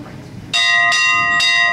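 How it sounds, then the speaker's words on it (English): A bell rings three times in quick succession at a Guinness Storehouse beer tasting session, each strike bright, resonant and clear, overlapping a faint murmur of people in the room. "So when we ring this bell, we're going to have a huge cheer"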